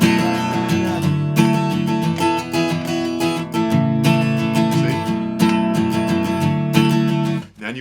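Acoustic guitar strummed in a single downstroke followed by repeated down-up strokes, chords ringing loud and close in a steady rhythmic pattern for a song, ending with a quick muted stop.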